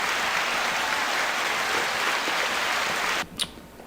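Audience applause rolls as a dense, loud wash of clapping that cuts off abruptly near the end, followed by a brief faint sound.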